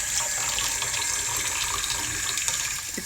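Tap water runs steadily into a kitchen sink while cabbage is rinsed, a constant close hiss and splash lasting the whole moment with no talk.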